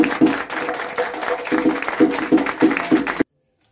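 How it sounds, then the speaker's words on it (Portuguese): A crowd at a celebration in an Afro-Brazilian axé house claps in pulsing bursts, loud and near, with voices mixed in, before the sound cuts off suddenly. "eu quero uma salva de palmas para Nelma."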